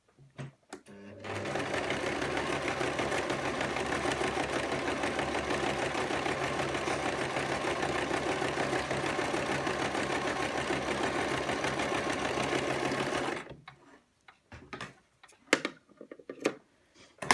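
A sewing machine top-stitching a skirt runs steadily for about twelve seconds in a continuous mechanical whir, then stops, leaving a few quiet clicks and handling sounds.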